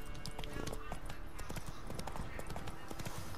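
Rhythmic clip-clop of a horse's galloping hooves in the video game The Witcher 3 runs steadily throughout, with a voice talking over the hoofbeats.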